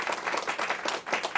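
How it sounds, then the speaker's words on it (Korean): Applause from an audience at a school curriculum briefing, with clear rapid clapping at moderate loudness, briefly caught mid-round. "큰 격려의 박수 부탁드리겠습니다."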